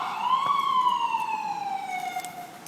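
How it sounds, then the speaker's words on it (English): A New York emergency vehicle siren wails in a single long tone that rises briefly and then slowly falls, moderately loud with faint street noise behind it. "Sirens."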